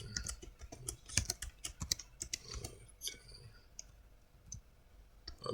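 A password being typed on a computer keyboard, a rapid run of close, crisp key clicks in uneven bursts that thin out toward the end, with no talking.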